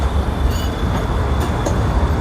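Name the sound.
Pesa tram ride, Polish-made tram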